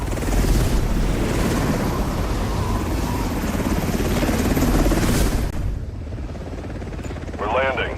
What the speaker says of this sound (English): My game's starting, so the helicopter's gonna be loud as fuck.